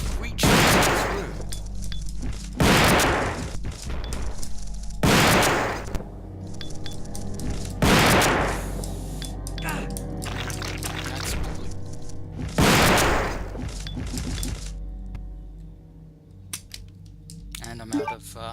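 Loud, close shotgun blasts in the video game Resident Evil 2 (Bio Hazard 2), five heavy booms spaced a few seconds apart, each with a ringing tail, then quieter game ambience.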